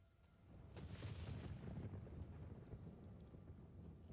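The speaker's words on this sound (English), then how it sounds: "Oh, it's stormy and raining now." Stormy weather in the video game Resident Evil Requiem: a steady low rumble of wind and rain swells in after a quieter start, with a dull thunder-like roll early on, then settles into a continuous dense wash with no talking.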